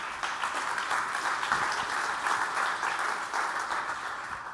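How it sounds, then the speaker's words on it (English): Audience applause for the panelists at a panel on Latinos in corporate America: dense, steady clapping from a full room that holds at an even level and fades slightly at the end. "A round of applause for them, please."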